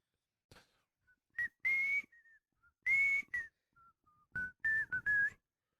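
A human voice imitates a high-pitched creature whistle, giving a series of short, close, piercing whistled notes in uneven bursts with quiet gaps between them.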